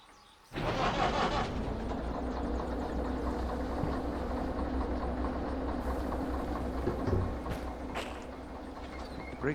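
Locomotive engines in the train simulator Derail Valley start up abruptly and settle into a steady, loud mechanical rumble and hum that continues throughout, with a few faint clanks near the end and no talking.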